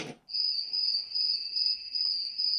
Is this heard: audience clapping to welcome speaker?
no